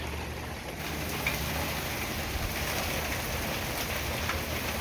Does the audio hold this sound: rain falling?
yes